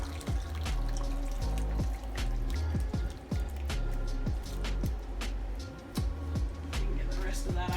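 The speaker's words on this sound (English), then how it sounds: "I'll pour all this over it." Thick sauce being poured over chicken in a baking dish for Marry Me Chicken, a run of wet drips and glugs with dense trickling, close and fairly loud, with light kitchen clatter.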